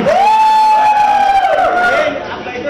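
A loud, continuous crowd cheers and whoops at a launch event for the film trailer of Gabbar Is Back starring Akshay Kumar, with one high shrill cry rising above the roar.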